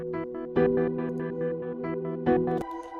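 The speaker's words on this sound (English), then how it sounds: "it's kind of like a piano sound" A piano-like synth preset patch from Analog Lab, layered with a pad and chopped by a half-beat gate, plays rhythmic repeated chords with two louder accented hits, alone and close.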